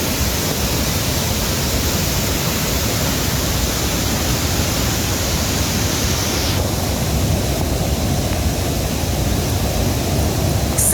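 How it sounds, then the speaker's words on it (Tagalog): Heavy rain and rushing water pour at Tamaraw Falls, a loud, dense, unbroken roar of falling water that fills the whole stretch without pause. "Naranasan sa lugar ang matinding buhos ng ulan, gayon din ang malakas na pag-agos ng tubig sa Tamaraw Falls"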